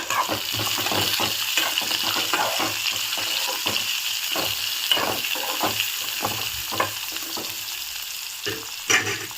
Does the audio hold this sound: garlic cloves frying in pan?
yes